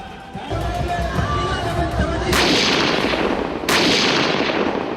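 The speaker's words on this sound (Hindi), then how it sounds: "इक्कीस तोपों की सलामी दी गई" Cannon fire from a twenty-one gun salute at a Mewar royal succession ceremony in Udaipur, with two loud booms that roll into lingering rumble after an opening stretch of crowd noise and talk.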